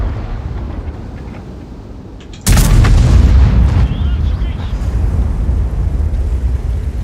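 Tank guns and self-propelled artillery fire in a tank battle game, with one sudden loud boom followed by rumbling echoes and continued battle noise.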